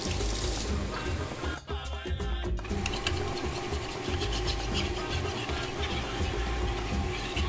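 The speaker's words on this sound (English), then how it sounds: "so now I'm gonna add water, mix it until it's liquefied." Water pours steadily into fermented corn pap (ogi) while it is mixed, a continuous, fairly loud splashing rush with a brief dip partway through.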